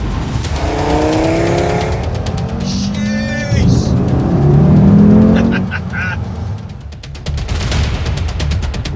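An Audi RS3's five-cylinder turbocharged petrol engine accelerates hard on an open road near Cape Town, its loud, rising harmonic drone climbing through repeated gear changes with brief pauses between pulls.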